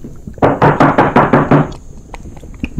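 Six firm, evenly spaced knocks on a wooden door ring out close and loud during a high school stage play, followed by a brief pause and a faint stray tap.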